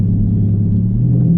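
A Dodge Charger 392 engine rumbles steadily at low pitch, close and loud, with its tone shifting slightly as the transmission downshifts.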